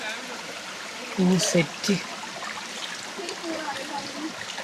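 Cold stream water flows steadily at Mayam Amboori waterfall, a constant close rushing trickle, with people talking loudly over it for a moment.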